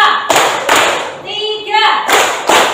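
A group of people clap in counted unison during a classroom coaching session, with several loud broadband claps in a steady rhythm between a spoken count.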